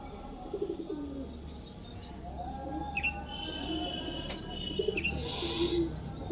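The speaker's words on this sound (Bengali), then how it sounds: "দেখুন দেখুন গাইজ রিলিজ করলাম পায়রাটাকে" Allahabadi Chiniya pigeons coo and call outdoors at a pigeon sale, soft repeated coos and chirps over steady background hum with faint voices.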